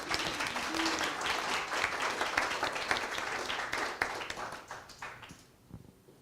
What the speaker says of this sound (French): du coup, vous pouvez l'applaudir